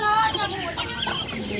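Chickens cluck busily and close by as grain is scattered for them on a village farm in Punjab, Pakistan, a dense overlapping chorus of short calls with ducks feeding alongside.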